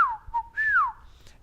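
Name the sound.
person whistling to call a cat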